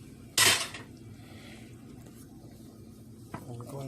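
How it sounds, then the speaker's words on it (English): Noodles tumble into a casserole dish of turkey and cheese mixture with one loud clatter and scrape near the start, then a low murmur of handling and a small knock near the end. "We're adding the noodles in now."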